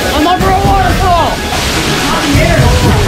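A waterfall at Great Gully roars with a steady, loud wash of falling water right up close, while voices shout and talk over it throughout.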